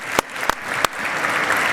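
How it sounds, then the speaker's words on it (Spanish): An audience applauds at a business event, with dense, steady clapping that builds and holds for under two seconds, a few sharper claps standing out near the start. "Vamos a aplaudirlo"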